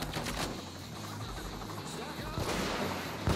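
Gunfire from a sniper in the video game PayDay 2, with sharp shots cutting through a dense, busy mix of in-game noise and talking players.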